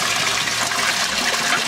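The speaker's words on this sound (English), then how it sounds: "it will just draw all the water out of that bed, which is what this one here is doing right now" An aquaponics grow-bed siphon pulls water out of the bed with a steady, close rushing gurgle of draining water that holds constant throughout.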